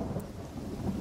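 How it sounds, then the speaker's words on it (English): Low rumbling thunder with soft steady rain in The Forest video game, faint and continuous with no other sounds on top. "Oh, and it's raining."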